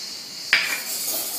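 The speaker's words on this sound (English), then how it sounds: "continue to whisk" A whisk beats egg whites with sugar and a dash of salt for meringue. A sharp metallic clink against the bowl starts a close, continuous swishing rhythm, with no voices.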